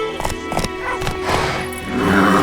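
Roach the horse in the Witcher 3 video game, hooves clip-clopping in a few quick beats before a loud, drawn-out neigh close by.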